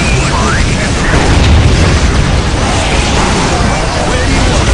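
Cannons fire amid the battle of Warhammer 40,000: Dawn of War Soulstorm, Imperial Guard campaign, as heavy booms blend into a dense, loud, continuous wall of combat noise with no pause.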